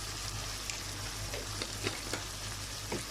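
Garam masala and pepper powder being stirred into a mixture in a pan for a fusion masala, giving a faint, steady sizzle with a few soft spoon scrapes scattered through it.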